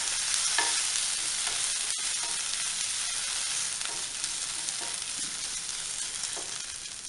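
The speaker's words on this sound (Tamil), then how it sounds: "கொஞ்சம் வதக்கி விட்டுக்கலாம்." Green chillies with ginger garlic paste sauté in a pan, giving a constant bright hiss of frying oil at a steady level, with faint occasional stirring touches and one sharp click.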